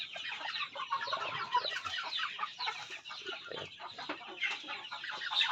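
A flock of native and Rhode Island Red chickens clucks and chatters continuously in a busy farmyard chorus, many overlapping calls at close to moderate distance, with no one speaking.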